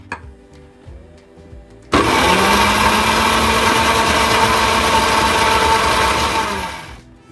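After a few quiet clicks and kitchen handling noises, a grinder bursts on loudly and whirs steadily for about five seconds, grinding the hummus mixture with added water, before switching off.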